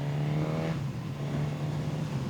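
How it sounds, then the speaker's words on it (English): Suzuki GSX-S1000 motorcycle engine revving close by, a loud rising rev that peaks and then settles into a steady, throaty idle hum, heard alone without talk. "just look at how nice that feels just to get the RPMs going."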